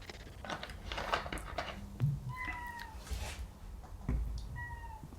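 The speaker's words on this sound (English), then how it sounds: "Sorry, my cat is yelling at me." A house cat yowls loudly indoors, a few drawn-out meows rising and falling over several seconds, close to the mic with faint background noise.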